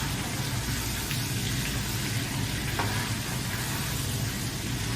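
Shrimp frying in a pan give a steady, dense sizzle that holds at an even level for the whole stretch, with a faint stirring clink near the middle.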